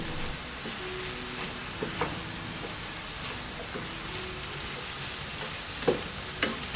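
Chopped tomatoes with chilli powder sautéing in a pan for a broccoli salad, a continuous moderate sizzle like light rain with occasional soft scrapes and taps of a stirring spoon, close and without talk.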